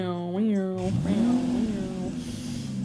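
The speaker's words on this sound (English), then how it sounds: "We're going in the car." A car's engine drones low and steady on a road trip, a close interior hum that fills the clip, with a voice sounding briefly over it at the start.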